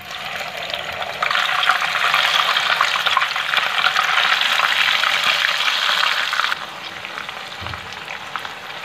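Chicken sizzles in about three tablespoons of hot oil in a kadhai while making butter chicken, a loud, steady frying hiss that swells after a second and eases off near the end, with no talking.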